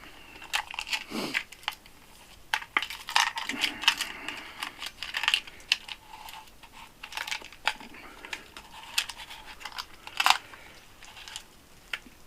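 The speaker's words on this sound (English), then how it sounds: "All I'm doing is winding up that spring in here." A Spencer logging tape has its spring wound up by hand, giving irregular clicks, ratcheting ticks and soft rubbing scrapes in uneven bursts, close and fairly quiet.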